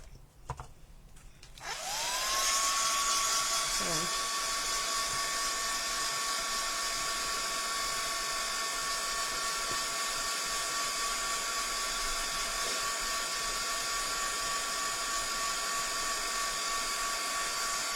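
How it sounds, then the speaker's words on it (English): A heat gun switches on after a brief clatter and blows steadily and loudly, a constant airy roar with a whining tone that holds unchanged to the end, used on a mixed media plaque made with moulds. "And then we can have a good blast with the heat gun."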